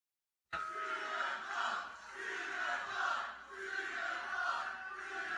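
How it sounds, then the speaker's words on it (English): A wrestling crowd roars and chants in waves after a brief silence, a dense sustained cheer swelling and dipping repeatedly at a moderate distance. "And you can hear the crowd"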